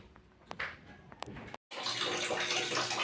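A household tap with weak water pressure is quiet at first, broken only by a few faint clicks and taps. Then a steady, rushing water flow starts and continues to the end.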